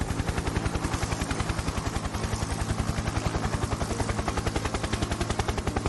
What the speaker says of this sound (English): a helicopter heads out to sea once more